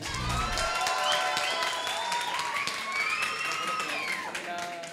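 A crowd applauds and cheers for a contestant at a Canary Islands drag show, the dense, steady clapping mixed with whoops and shouts filling the room, with some voices talking over it.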